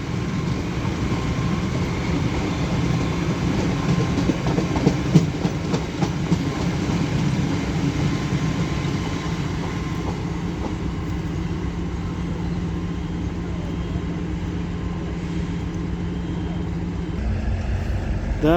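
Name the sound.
passing train with several flat wheels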